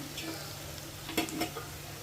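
Dried vadiyalu fritters frying in hot oil: a faint, steady sizzle with a couple of sharp clicks near the middle.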